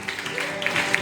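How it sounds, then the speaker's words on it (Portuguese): A church congregation claps along together during a Portuguese-language worship service, with steady rhythmic applause mixed with crowd noise over a brief stretch. "Levanta as mãos para o alto e aplaude aquele que reina"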